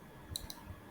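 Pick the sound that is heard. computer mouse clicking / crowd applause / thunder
computer mouse clicking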